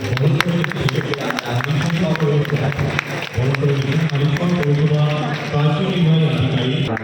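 An audience claps steadily to welcome Arjun Singh, state minister and Noapara MLA, at a public function. The dense clapping runs throughout with a loud amplified voice speaking over it.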